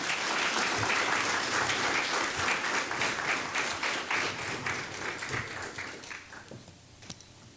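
A welcoming round of applause from the audience at a cultural week event on a university campus, a thick continuous clatter of many hands that slowly thins and fades toward the end, with a few stray claps left.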